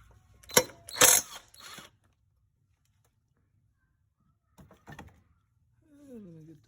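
A hand ratchet clicks in a few quick close bursts while loosening a nut on an Infiniti engine's valve cover, followed by a long quiet gap, a couple more faint clicks and a brief voice at the end.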